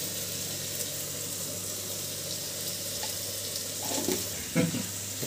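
Spices tempering in a pan in a small home kitchen, a faint continuous sizzle with a few louder clatters and stirring sounds near the end.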